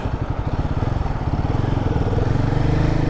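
A Royal Enfield Guerrilla 450 motorcycle being ridden, its engine thumping in a fast, pulsing rhythm that builds steadily louder as it pulls, close and continuous.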